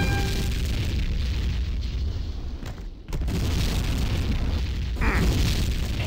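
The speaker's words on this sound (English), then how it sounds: "Enemy generator destroyed." A generator blowing up in a Tribes 2 capture-the-flag match on the Katabatic map, heard as a dense, rumbling blast that swells and holds loud through the clip, with a sharper burst near the end.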